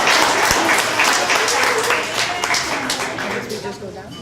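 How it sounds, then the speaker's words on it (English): A community event crowd gives a round of applause for the sponsors, dense clapping from many hands close by that starts strong and gradually thins and fades over a few seconds. "So let's give them another round of applause"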